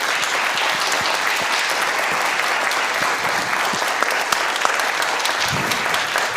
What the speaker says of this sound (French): tu es beaucoup applaudi Benjamin